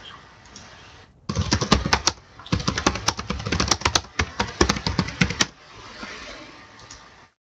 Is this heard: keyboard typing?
yes